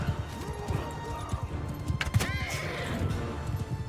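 Horses in the medieval battle game Mount & Blade II: Bannerlord, rapid galloping hoofbeats under shrill neighs and whinnies, with a clash of battle noise mixed in, close and busy.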